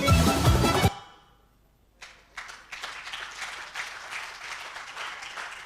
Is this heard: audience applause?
yes